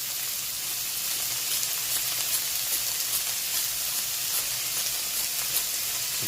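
Egg fried rice with onions sizzles steadily in a hot pan while being stirred, a continuous close bright frying hiss with small scraping bursts, no voices.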